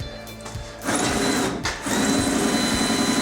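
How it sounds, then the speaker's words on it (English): A high-pitched power drill whirs loudly, drilling out plastic trim clips on a Toyota Supra bumper, pausing briefly in the middle before spinning up again, with a low mechanical rumble underneath. "The other side is spinning or busted or broke, so I'm having to drill them off"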